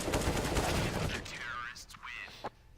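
Counter-Strike gunfire on the Mirage map during an NRG vs Liquid ECS match: a dense, rapid burst of shots fills the first second, then trails into quieter game sounds with a couple of sharp later hits.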